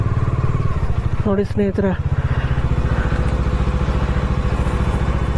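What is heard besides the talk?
motorcycle engine running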